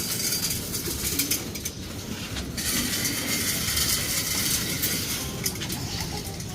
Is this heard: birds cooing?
yes